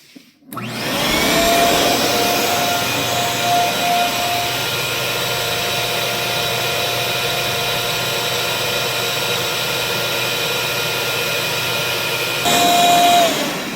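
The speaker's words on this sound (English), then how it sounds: "I'm going to start with my rigid vacuum" A Ridgid shop vacuum starts up and runs with a steady, loud whine and roar, holding constant for about twelve seconds before a brief surge near the end as it winds down.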